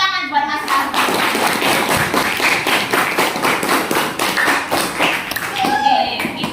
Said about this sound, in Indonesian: tepuk tangan buat Mas Harta